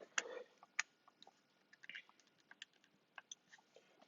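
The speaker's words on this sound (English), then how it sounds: "let me find a calculator and type that in." Faint, scattered clicks of keys being pressed on a calculator to type in numbers, a quiet irregular tapping with no talk.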